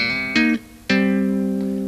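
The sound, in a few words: tapped bass phrase with thumb slaps and double-stop hammer-ons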